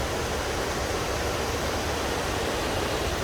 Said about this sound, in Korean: 여기 마을 안에 들어가면 동네 사이로 폭포가 엄청 흐릅니다